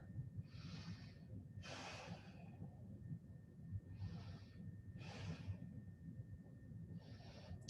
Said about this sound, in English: Keep breathing. 3 more deep breaths.